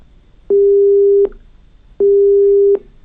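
A telephone busy signal after a call was cut: two loud steady beeps of equal length separated by a pause, clear and with no voices.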